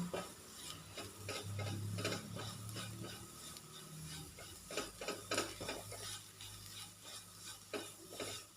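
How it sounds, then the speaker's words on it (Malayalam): Spice powders for a chicken roast are sautéed in a pan over a low flame, heard as faint, rhythmic scraping stir strokes over a soft, quiet sizzle. "പൊടികളുടെ ഒരു പച്ചമണം മാറുന്നത് വരെ നന്നായിട്ടൊന്ന് വഴറ്റി കൊടുക്കാം ഫ്ലെയിം കുറച്ച് വെച്ചിട്ട് വഴറ്റി കൊടുക്കുക"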